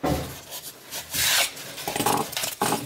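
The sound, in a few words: sanding extruded polystyrene foam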